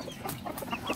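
Texas and golden chickens on a small farm give soft, scattered clucks over about a second, fairly faint and close, with no voices.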